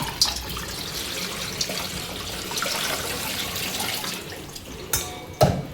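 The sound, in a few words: tap water poured into a pot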